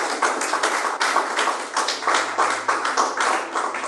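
A church congregation claps in a steady, rhythmic beat, many hands striking together in repeated pulses, close and loud, with no talk over it.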